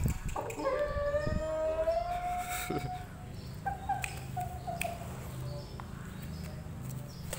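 A chicken fighting a cobra lets out a loud, drawn-out harmonic squawk or crow for about two seconds near the start, followed by a few shorter cries over steady background noise.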